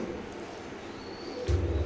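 Teddy pigeons in a loft give a low coo near the end, a brief soft burst after quiet room hum, with no talk.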